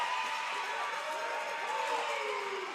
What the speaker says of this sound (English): I don't know if you can hear Tick Tick Boom's little cheering squad